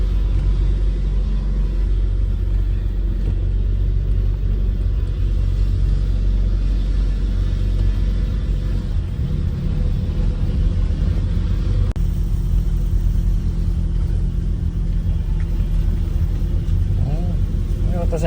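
A Honda City car fitted with bolt-on electric power steering has its engine running in a steady, close rumble throughout a test drive, with some talk over it.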